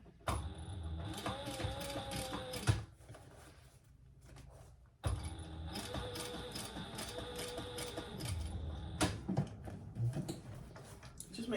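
A sewing machine bastes a bag seam in long, steady runs of rapid ticking stitches, with a brief pause partway through; the sound is quiet and close.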